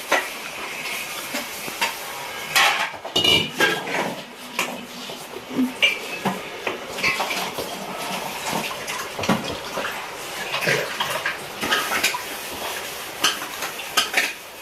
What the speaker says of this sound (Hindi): और उधर मम्मी बर्तन मांज रही है।